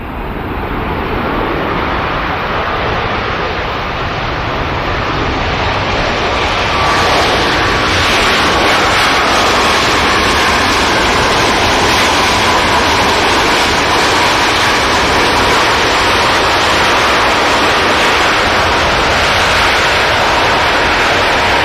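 A Ryanair airliner at Manchester Airport gives a loud, sustained jet roar close by, swelling after a few seconds and holding steady with a faint whining tone gliding downward through it.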